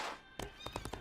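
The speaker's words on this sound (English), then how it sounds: "There are my horses." Horses in the video game Disney Infinity give a short neigh followed by a quick series of close hoof clops, faint and brief.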